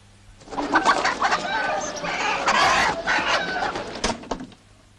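Chickens clucking and squawking loudly at close range in a rural farmyard scene from a 1993 Romanian film, with a busy flurry of overlapping calls that rises and then fades out.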